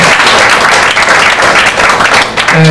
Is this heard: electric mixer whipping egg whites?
no